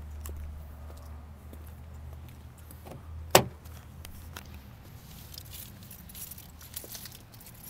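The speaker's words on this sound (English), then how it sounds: "Grab the key for it here." Car keys for a 2008 Acura MDX grabbed with a single sharp, close metallic jangle, standing out from a quiet room hum.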